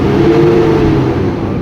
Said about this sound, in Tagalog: So ngayon try lang muna nating i-rebrave ang makina.